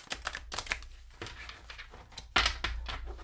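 Quick papery riffling and slapping bursts of tarot cards being shuffled close up, in short uneven flurries.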